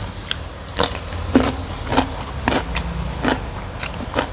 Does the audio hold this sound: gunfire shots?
no